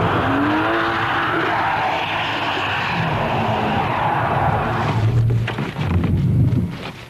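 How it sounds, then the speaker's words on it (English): Rear-wheel-drive BMW on a wet roundabout, rear wheel spinning and skidding under sudden throttle: a steady engine note and tyre hiss build into a loud, close surge of engine revs and slithering wheelspin in the last couple of seconds. "You can see that the cause of my problem is the rear wheel spinning, which makes the back end break away."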